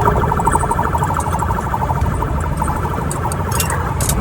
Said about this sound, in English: with sirens wailing behind him